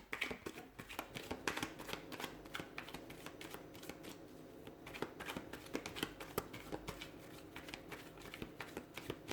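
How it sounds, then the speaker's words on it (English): Continuous riffling and flicking of tarot cards being shuffled, a steady papery shuffling with soft taps, close and fairly quiet, no voices. "Let's give the cards a shuffle"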